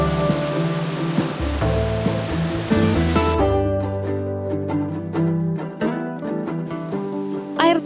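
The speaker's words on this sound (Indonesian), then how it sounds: "Air terjun Purwosari merupakan salah satu dari sekian banyaknya air terjun yang sangat menarik untuk didatangi di Kabupaten Simalungun" Purwosari waterfall in Simalungun, about 10 meters high, pours with a dense, steady rush of falling water that is loud at first, then partly covered by music.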